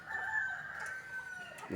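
Chickens cluck and a rooster crows at a village coop, a sustained mid-pitched crow carrying across the yard with a short cluck near the end, fairly close and alone without talk.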